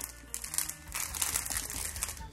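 Small plastic bags of diamond painting drills being torn open by hand, giving a close, busy crinkling and crackling of thin plastic that runs without pause for a couple of seconds.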